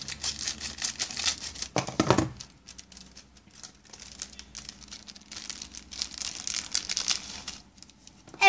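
A homemade doll clothes package being unpacked by hand, with close crinkling and rustling of plastic wrap and a brief louder tearing burst, then continued handling and crumpling.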